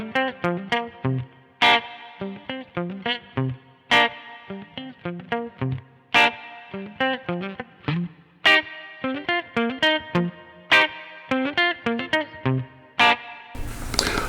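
Distorted electric guitar with a Seymour Duncan noiseless middle pickup, played through a Quilter Superblock US amp, a steady run of plucked notes and chords with short gaps, loud and close, no voices.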